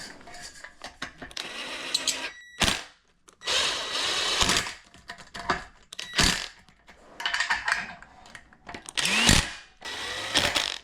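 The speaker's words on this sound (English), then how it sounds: "Put the screws in and tighten them right up." Screws are driven into metal brackets on a twin over twin bunk bed, in a series of short bursts of drilling and ratcheting separated by brief pauses, close and fairly loud.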